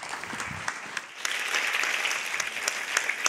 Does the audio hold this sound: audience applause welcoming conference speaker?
yes